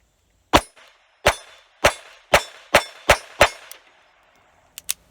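A Beretta 950BS .25 ACP pocket pistol fires PPU ammunition: seven sharp, loud shots in a fairly even sequence, each with a short ringing tail, then two fainter metallic clicks near the end.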